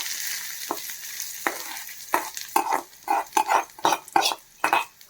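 Hot oggarane of fried urad dal and seasoning poured onto mint chutney, a hiss that erupts into a series of sharp, loud sizzling bursts and spoon clinks against the vessel, growing more frequent toward the end.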